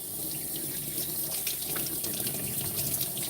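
Running tap water splashes steadily over a small Yorkie being rinsed during grooming, a close, continuous gush with uneven spatters as the stream hits fur and sink.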